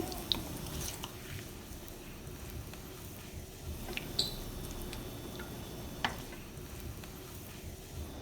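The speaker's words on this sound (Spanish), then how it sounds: "en lo que yo estoy friendo los plátanos que ya están, los voy a sacar." Low, steady sizzling of plantains frying in a pan, with a few faint clinks and taps over the constant crackle.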